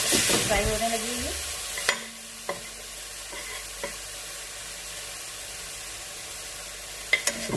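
Ingredients for a chicken and vegetable creamy pasta fry and sizzle in a pan, starting with a loud burst of frying that settles into a quieter steady hiss, with a few sharp utensil clicks against the pan.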